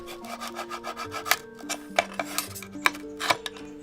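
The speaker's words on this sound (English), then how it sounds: "The mirror isn't reflective just yet. It needs to go through several rounds of polishing. But first, Sudhamal cuts it down" Handmade metal mirror being cut, with close, rasping scrapes and bright metallic clinks and taps in an uneven rhythm, fairly loud with no talk.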